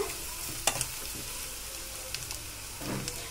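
Tomatoes frying with softened onions in a pan, a steady low sizzle running throughout with a few brief clinks and stirring scrapes, close and moderately quiet, no talking.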